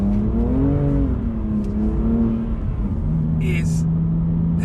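A 2020 BMW M2 CS with a straight-six engine and manual gearbox, the engine droning and rising in pitch while driving, with cabin road noise and a brief interior squeak.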